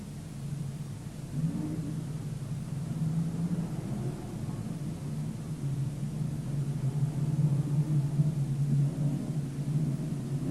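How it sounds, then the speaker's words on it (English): Charlestown Toyota pace vehicle pulling away around a Newcastle dirt modified track, a steady low engine rumble with faint revving swells, moderately distant and continuous under wide broadband track noise. "the Charlestown Toyota Pace vehicle is moving away"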